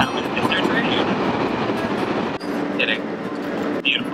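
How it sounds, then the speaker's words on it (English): A train in Italy rumbles past close by, with a dense, continuous rolling roar, rhythmic wheel clatter and a few faint high squeaks. "This is our train."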